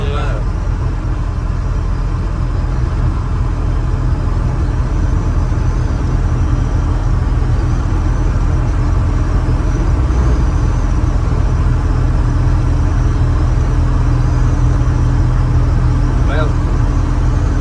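A 1965 Chevrolet C30 dually truck drives along with a loud, steady low engine rumble and road roar filling the cab, while people talk over it.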